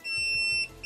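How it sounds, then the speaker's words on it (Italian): Attila ATF 17.25 LI cordless pruning shears give a series of close, clear electronic beeps as they switch off, with no talk. "con tre beep lei rimane chiusa e spegniamo la batteria"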